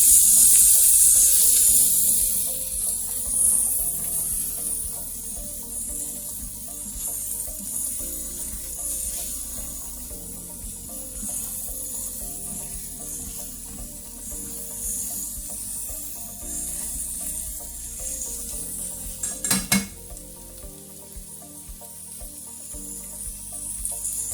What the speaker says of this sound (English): we're going to add in our zucchini